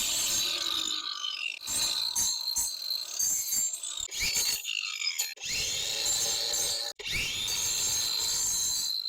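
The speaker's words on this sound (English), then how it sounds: "For that we'll be using this grinder with the masonry cup wheel." An angle grinder fitted with a masonry cup wheel grinds sunken asphalt while a patch is prepared. The loud, harsh grinding comes in uneven bursts with short gaps, then settles into steadier grinding in the second half.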